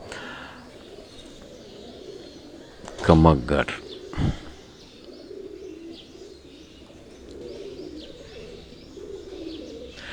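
Pigeons coo in a short burst near the middle, with a brief flutter, over a low background hum and some nearby speech.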